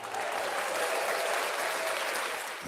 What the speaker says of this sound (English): going around applause for Mike Dean.